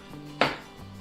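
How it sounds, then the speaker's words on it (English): A single sharp knife chop through an onion on a cutting board, one crisp close thud with a short crunchy tail, then quiet kitchen hum. "we are going to start out by slicing us some onion"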